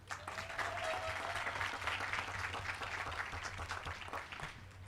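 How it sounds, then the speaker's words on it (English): Steady, dense applause from a large audience at a high school graduation ceremony, sustained evenly throughout, with a low hum underneath. "that deserves a round of applause on its own."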